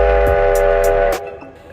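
A steam train whistle blows a loud, rich chord that cuts off abruptly, leaving a low rumble fading behind it.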